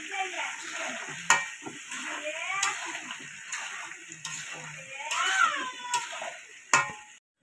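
Mango pickle with turmeric and chili powder is stirred and fried in a pan, with a soft sizzle underneath and sharp scraping knocks of the spoon against the pan every second or so, close up.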